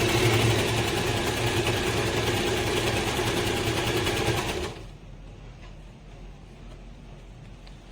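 Usha Janome Excella sewing machine in SS mode runs a double stitch with a steady, close mechanical whir for nearly five seconds, then stops, leaving a quiet room.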